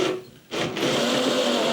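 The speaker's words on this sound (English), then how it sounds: "if I run the drill in reverse, the roller runs towards the other roller" A power drill whirs steadily as it turns the rollers of a barley grain mill, briefly dipping then revving back up to a constant mechanical hum.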